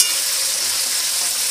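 Vegetable stalks stir-fried with spice paste in a village kitchen, giving a steady hiss and sizzle of frying throughout, close and even, with no voices.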